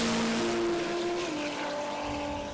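Race cars roar past at the Garrett Brisbane Jamboree motorsport event, a loud, sustained engine drone with shifting pitch heard from trackside, dominating the brief moment.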